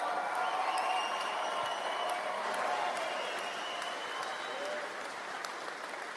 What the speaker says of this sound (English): ladies and gentlemen, please, round of applause for Carl Lovett